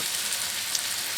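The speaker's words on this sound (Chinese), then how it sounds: "让它煎在锅里" Loach fish frying in a pan: a steady, close, crackling sizzle of hot oil, even and unbroken for just over a second, with no talking.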